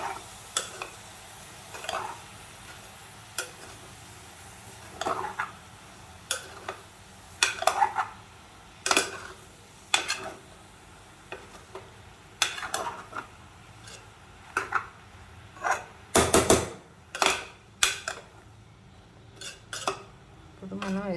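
A spoon stirs brinjal and dried prawn curry in a pan, giving scattered scraping and clinking taps against the metal at an uneven pace over a faint, steady background hum.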